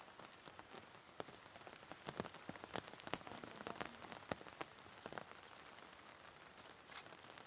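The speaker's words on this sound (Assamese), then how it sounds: "আৰু বৰষুণ মাৰি আছে" Steady rain falls outdoors over fields with standing water, a dense, even patter of drops on surfaces with scattered sharper drips close by, continuous throughout with no talking.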